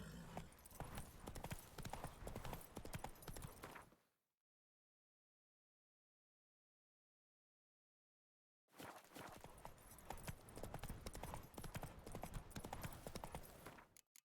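Horse hooves clip-clop at a steady gallop in The Witcher 3, loud and close, with a brief whinny. The sound cuts out completely for several seconds midway, then resumes just as strong.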